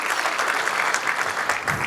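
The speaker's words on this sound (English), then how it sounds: "Please just give him a round of applause." Audience applause at a celebration luncheon, a steady dense wash of clapping from a roomful of guests, sustained at even loudness throughout.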